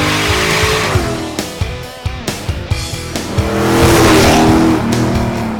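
A tuned car road tested on the street roars loudly and up close, engine revving through gear changes with brief tire chirps, the drone swelling again as it accelerates.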